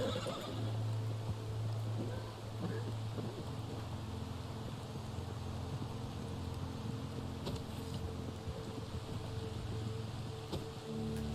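A horse neighs and whinnies in the Red Dead Online video game, heard up close amid buzzing insects and steady ambient outdoor game sound, with no one talking.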